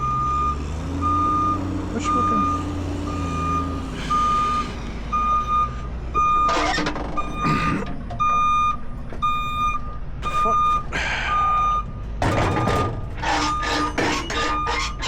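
A Class A truck pulling doubles on dollies sounds its warning beeper. Loud, evenly spaced beeps repeat over a deep engine rumble, along with clanks and air hiss. Someone speaks briefly.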